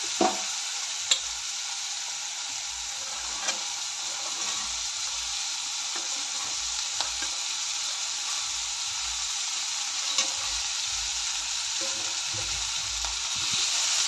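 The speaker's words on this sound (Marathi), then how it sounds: "चिरलेला बीन्स घालून 1-2 मिनटं परतून घ्यायचं आहे." Chopped green beans sauté in a pan with soft tomato, a continuous loud hiss of frying broken by occasional spoon taps and stirring, with no voices.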